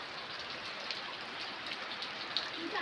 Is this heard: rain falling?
yes